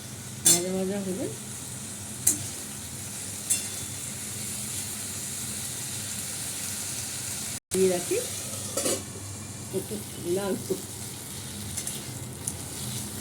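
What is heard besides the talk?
frying potatoes and rice in oil, stirring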